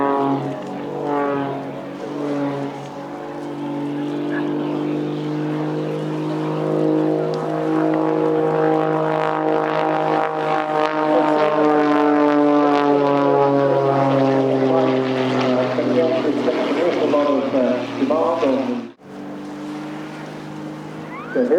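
A Jet Pitts aerobatic biplane with a piston propeller and two linked Jet A1 turbines passes at an airshow, its engine note swelling and sliding in pitch as it dives and turns, then cutting off abruptly near the end.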